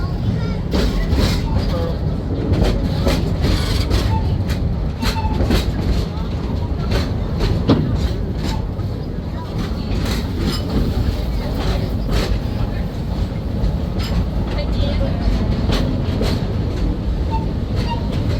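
Rumbling, rattling ride on the Serengeti Train at Busch Gardens Tampa, steady clickety-clack over the rails, loud and continuous, with a voice talking over it.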